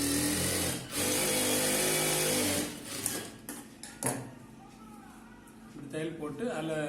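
Sewing machine stitching chudithar pieces together, a loud continuous mechanical hum for the first few seconds, then stopping while a voice talks over lighter handling noises.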